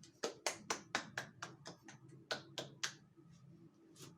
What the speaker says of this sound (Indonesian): Ya tepuk tangan untuk Paulo.